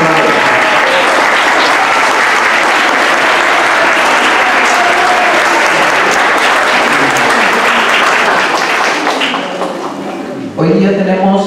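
A church choir concert audience in a parish hall claps in loud, dense, sustained applause for about ten seconds, then it thins out and a voice speaks briefly at the end.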